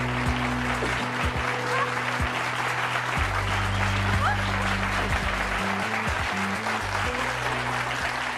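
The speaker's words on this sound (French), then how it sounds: "je vous demande tout de suite d'accueillir et d'applaudir très très fort Aurore et Marjorie" A studio audience on a French talk show applauds as guests arrive, sustained clapping throughout with music playing underneath.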